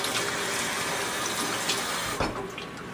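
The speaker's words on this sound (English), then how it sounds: "rinse it off" Tap water runs steadily into a kitchen sink as an apple is rinsed under it, a continuous close splashing hiss with a brief change in the flow near the end.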